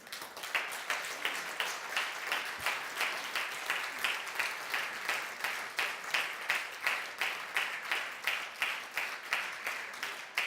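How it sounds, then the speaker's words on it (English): A leadership camp audience claps together in a steady, rhythmic wave of applause that keeps going for several seconds, fairly distant and even in loudness. "Give yourselves a big, big round of applause."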